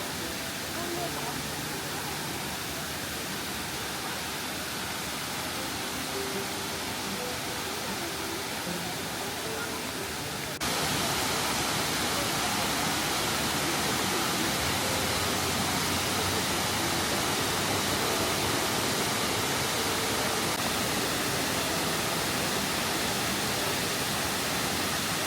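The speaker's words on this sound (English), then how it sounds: "I then walked to Nuorilang Waterfall" Nuorilang Waterfall in Jiuzhaigou roars as a steady, dense broadband rush of falling water, continuous and loud, jumping noticeably louder partway through as if heard from a closer spot.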